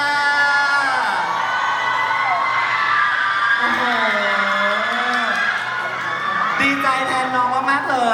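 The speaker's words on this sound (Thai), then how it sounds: "ขอเสียงกรี๊ดใ้กับเบกกี้หน่อยค่ะ" A large crowd of fans at a Thai fan event screams and cheers continuously, high excited voices rising and swelling throughout, with shrill shrieks standing out near the end.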